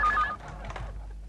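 A telephone gives a short, clear ring at the start. It then fades into a low, steady hum with faint muffled noise.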